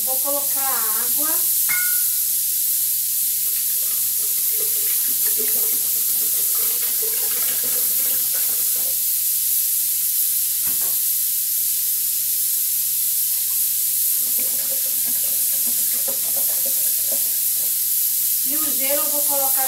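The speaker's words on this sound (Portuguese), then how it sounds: "Vou colocar a água." Tap water streams steadily into an acrylic blender jar with a continuous hissing splash while someone talks over it at intervals.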